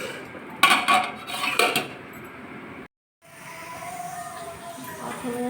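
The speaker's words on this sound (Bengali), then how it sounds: "নেড়ে দিলাম আস্তে করে।" A utensil scrapes and clinks against a pot while biryani cooks, with a couple of sharp metallic knocks, then a short gap and quieter shuffling. Someone speaks faintly in the background.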